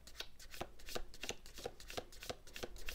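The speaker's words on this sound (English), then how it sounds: "A big stack of circular cards here for me to shuffle, so the right one will come out." A large stack of round tarot-style cards being shuffled by hand, giving a steady series of crisp riffling bursts roughly every third of a second, close and fairly quiet with no voices.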